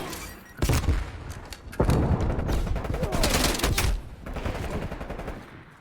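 Rapid bursts of gunfire in a Call of Duty Cold War multiplayer match, loud and close, with sharp shots and volleys repeating over several seconds amid game effects.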